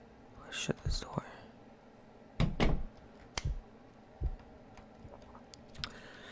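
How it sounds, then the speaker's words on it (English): A door shuts in a video game as a few sharp knocks and thunks, with whispered talk running through the stretch. "Let's shut this door."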